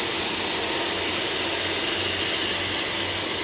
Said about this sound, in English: Listen to the air expelling out of the engines.